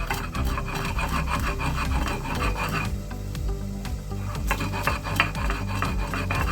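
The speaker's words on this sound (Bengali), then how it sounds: "এবার আমি এটাকে শিলে একটু বেটে নিচ্ছি" Repeated rasping and scraping of stone grinding spices, back-and-forth strokes in an uneven rhythm, close by and moderately loud.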